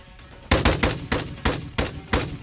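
Gunfire in Call of Duty during a competitive bot league match, heard as six sharp, loud shots in quick succession with short irregular gaps, close and alone with no voices.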